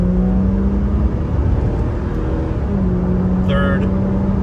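A 2003 Aston Martin DB7 engine hums steadily from inside the car as it is driven and shifted down through the gears. The drone is constant with only slight changes in pitch.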